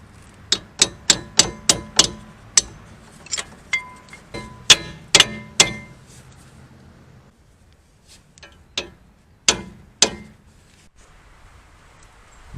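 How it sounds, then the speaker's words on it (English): Small hammer tapping a retaining clip on a Porsche Boxster wheel upright, a run of sharp metallic strikes in quick bursts, then a pause and a few more isolated taps, close and loud. "I guess I'll try to do it with a small hammer."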